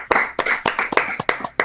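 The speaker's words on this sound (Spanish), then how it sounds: "Vamos a darle un aplauso" Hands clap in a quick round of applause, about six sharp, close claps at a fairly regular beat with no voices.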